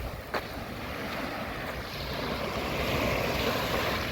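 Steady wind and surf at Catalan Bay beach in Gibraltar on a warm, breezy day, a continuous washing roar of waves with wind buffeting the microphone and no talk.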